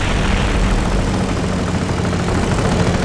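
A World War II warplane's propeller engine drones overhead in Company of Heroes: Eastern Front, a steady, loud, low hum that holds without a break.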